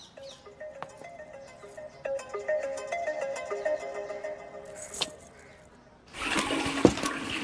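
A phone rings with a repeated melodic electronic ringtone, faint and steady for about five seconds, followed by a short burst and then a loud rushing, splashing noise that covers the end.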